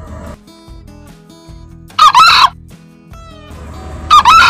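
Expensive ornamental chickens cluck in soft irregular bursts, broken twice by loud, close rooster crows, with a low background hum.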